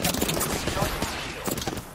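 Rapid gunfire crackles through a video game firefight, dense bursts of sharp shots close and loud, layered with other game sounds and a voice talking over them.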